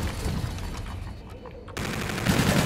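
Gunfire rattles in a first-person shooter match, with rapid bursts of shots close by, a brief lull, then more fire resuming loudly.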